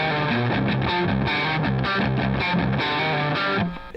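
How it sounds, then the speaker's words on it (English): A heavily distorted electric guitar plays a chugging metalcore riff, with palm-muted low notes pulsing against sustained higher notes in a driving rhythm, loud and unaccompanied until it cuts off near the end. "You're gonna hear lots of oblique chug stuff like"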